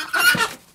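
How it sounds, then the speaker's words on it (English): A short burst of bantam rooster clucking, close and fairly loud, a single quick vocal call lasting under a second. "Banty roosters may be small, but they are fiercely protective of what he sees as his girls."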